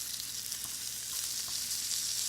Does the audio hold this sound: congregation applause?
no